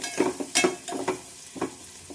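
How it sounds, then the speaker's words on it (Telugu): Onions frying in a pan on a home stove, with bursts of spoon stirring and scraping over a steady sizzle, moderately loud and close, with no voices. "ఆనియన్ మరీ ఫ్రై కాకుండా కొంచెం కలర్ చేంజ్ అయితే సరిపోతుంది"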